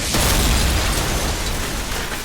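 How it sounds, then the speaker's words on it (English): A U-boat torpedo strikes a ship amidships, setting off a loud, close explosion that swells into a dense, sustained roar and rumble for about two seconds. "A torpedo amid ships"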